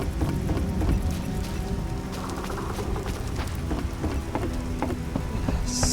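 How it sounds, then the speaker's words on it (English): Heavy rain falling in the video game The Witcher, a dense, steady patter with scattered sharper drops, alone and continuous throughout. "serious rain."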